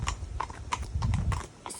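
Hooves of a sports-type horse clip-clopping at an equine yard, a steady run of moderate hoof strikes close by with some background rustle.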